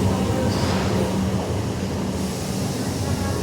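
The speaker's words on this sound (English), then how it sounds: "Train departing, stand clear, please." An HCMT train pulls out of Flinders Street Station in Melbourne with a continuous, close, heavy rumble and hum that stays steady throughout.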